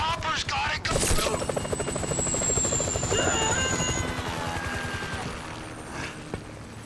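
Helicopter in the video game GTA V, a steady rotor drone with engine whine running throughout amid game noise, gunfire bursts and speech-like chatter.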